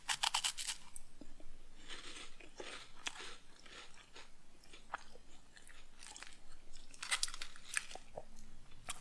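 Dark chocolate wafer being bitten and chewed up close, a series of crisp crunches and crackles in bursts, loudest at the start and near the end, quiet between bites, with no talking.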